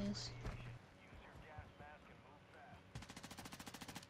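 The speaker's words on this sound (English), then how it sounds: "Is he shooting at people?" Call of Duty DMZ gunfire on Ashika Island, with a burst of rapid automatic fire near the end after scattered shots, heard under game ambience while players talk.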